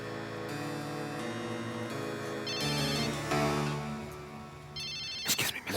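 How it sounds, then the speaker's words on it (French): A mobile phone ringtone plays out in a crowded audience, a steady, melodic electronic ring running continuously with changing tones, with a burst of rustling and handling noise near the end. "La dame avec le téléphone, éteignez-le."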